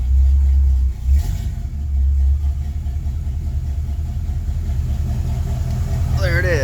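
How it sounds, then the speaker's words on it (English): A 1978 Camaro RS engine runs steadily with a slipping power steering belt, a loud, close, low rumble with a faint squeal near the end, and someone talks over it. "Oh, there's that power steering pump. It's slinging fluid everywhere and the belt's slipping."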